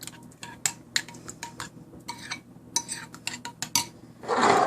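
A spoon mixes bottle gourd raita with roasted cumin powder in a bowl, producing quick rhythmic clinks and taps against the dish, ending in a brief burst of louder scraping.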